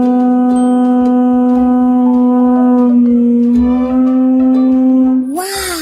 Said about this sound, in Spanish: es un pututo